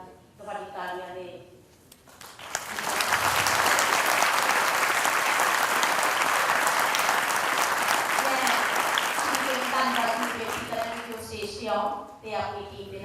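Sustained audience applause after a stage performance of the play Tasveeran, rising from a quiet start into steady dense clapping for several seconds before thinning out, with a voice audible before and after.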